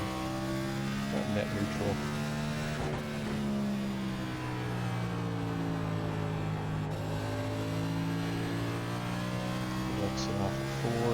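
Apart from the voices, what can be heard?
NASCAR NextGen race car engine accelerating, iRacing video game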